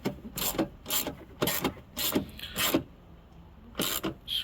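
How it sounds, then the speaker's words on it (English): Ratchet driving a screw into the light fitting of a Ford Focus MK3, heard as a series of short rasping clicking bursts in a steady rhythm, close and fairly quiet, with no talk. "Get my ratchet,"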